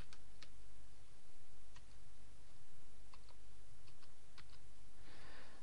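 Keystrokes on a computer keyboard as a security code is entered, a sparse run of light clicks over steady background hum, with no talking.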